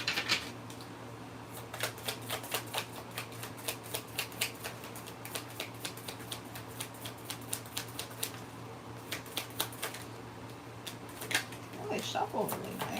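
A tarot card deck being shuffled by hand gives a steady run of crisp, rapid riffling clicks close to the mic, with soft room noise underneath and no talking.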